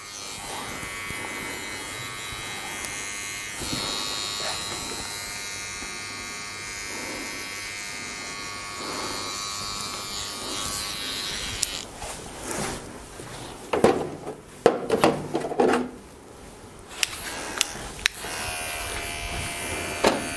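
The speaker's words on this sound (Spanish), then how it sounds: "Ahora trabajamos con la máquina de corte." Electric hair clipper running with a steady motor buzz through a men's barbershop haircut, close and continuous, with brief clicks and handling noises near the end.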